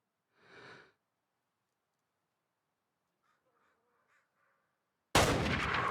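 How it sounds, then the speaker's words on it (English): Single loud rifle gunshot fired at a game animal in the Way of the Hunter video game, a sharp crack that bursts in near the end after quiet stretches broken only by faint brief ambient bird-like calls. "Maybe we'll take a shot on that guy."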